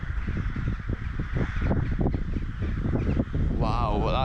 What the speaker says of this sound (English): Like these crows at this side are going absolutely crazy.